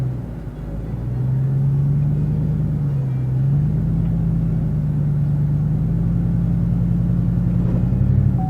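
A 2-wheel drive truck engine straining while pulling a boat trailer, a loud, steady low rumble with the revs climbing and holding, close by and alone.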